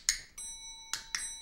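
A doorbell-style chime sound effect played during a podcast, two pairs of bright ringing ding-dong tones with a lingering ring between them.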